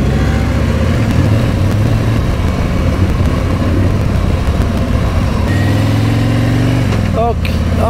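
A Harley-Davidson Tri Glide M8 trike with a Rekluse clutch, engine running on the road, rumbles in a steady close low throb that shifts in pitch partway through, with wind and road noise and brief high squeaks near the end.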